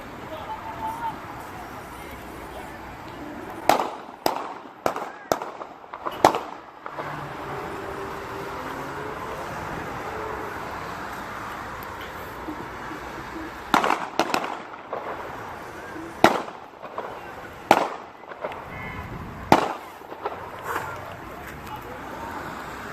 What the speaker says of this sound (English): Yeah, they're shooting right there.